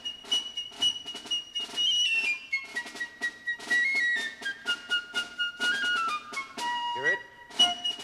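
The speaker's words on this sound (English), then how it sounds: "Prokofiev, in his music for his funny film Lieutenant Kijé, uses this mode with its raised fourth note in this piccolo solo" A solo piccolo plays a Lydian-mode melody with a raised fourth from Prokofiev's Lieutenant Kijé, bright and high with quick detached notes and a few held tones, clear and close with no talking.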